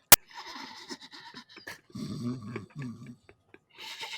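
A pet dog snoring and breathing heavily nearby, rough low grunting breaths in irregular bursts with pauses, after a sharp click at the start.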